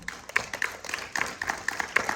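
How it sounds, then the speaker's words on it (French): Children in a French-language school classroom clap, a scattered burst of hand claps at moderate distance, uneven and somewhat faint. "Bravo, applaudissez pour les enfants."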